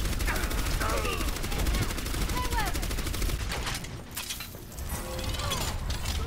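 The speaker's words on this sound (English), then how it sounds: "God, my gun shoots so slow" Rapid automatic gunfire from a weapon in the video game Overwatch, bursts of repeated shots running through most of the moment, with game effects layered in and brief lulls.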